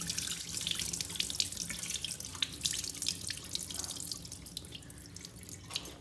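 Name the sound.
washing rice in water before soaking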